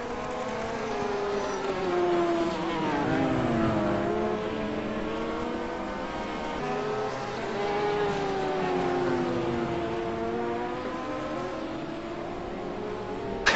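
A Ferrari GT race car drives at the Sebring 12 Hours, its engine note climbing and falling through shifts and corners, loud and steady with other cars nearby.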